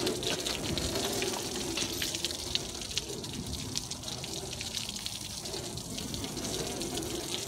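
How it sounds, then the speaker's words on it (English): Water rinsing aluminum cleaner off a metal surface, a steady hissing gush of spray and splashing that runs continuously and fairly faint. "you can go ahead and rinse it off now"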